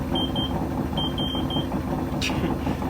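A Whirlpool SCW1112WH washing machine sounds a few thin, high electronic error beeps in short pairs and triplets over a steady, low mechanical hum.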